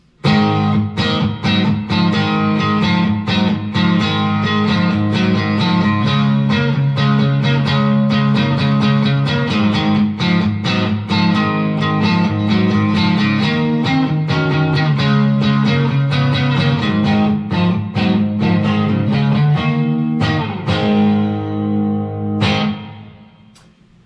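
Firefly FFST Strat-style electric guitar played through the neck pickup with tone controls fully up, a continuous stream of bright, distorted picked notes and chords for over twenty seconds, ending on a ringing final strum.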